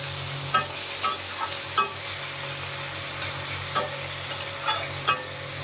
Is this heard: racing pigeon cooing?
no